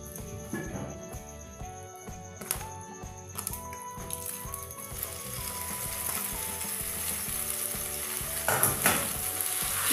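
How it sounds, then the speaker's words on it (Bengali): Grated coconut fries in a pan as boiled taro greens are stirred in, with sharp spatula clicks and scraping over a steady sizzle that swells louder toward the end, with faint background music and no speech. "ভালো করে কচুর শাক নারকেলের সাথে মিশিয়ে দেব।"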